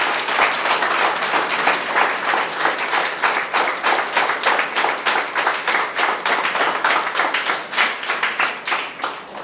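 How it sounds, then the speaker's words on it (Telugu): An audience at a civil services strategy session breaks into steady, loud applause, dense clapping sustained throughout and tapering slightly toward the end, with no talk over it. "మనందరి బిగ్ రౌండ్ ఆఫ్ అప్లాజ్"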